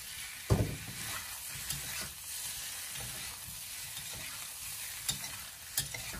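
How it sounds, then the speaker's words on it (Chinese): Eggplant is stir-fried in a wok, its low sizzle broken by scraping spatula strokes and a few sharp knocks of the spatula against the pan, all close up with no speech. "我们用锅铲将它不停的翻炒，将茄子炒软，炒至变色"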